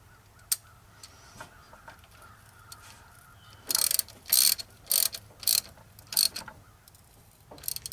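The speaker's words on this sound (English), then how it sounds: "then I'm going to tighten the distributor back down" A hand ratchet tightens the distributor on a VW engine during a tune-up: after a couple of faint knocks, several loud, close bursts of rapid clicking follow in quick succession, with no talking.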